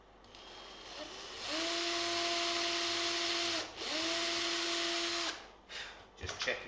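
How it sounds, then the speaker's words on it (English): Power drill boring a hole in a wooden tumbi body, a steady whining drone that runs for about two seconds, pauses briefly, then runs again for another stretch before stopping, close and loud. "so I'll drill that hole too"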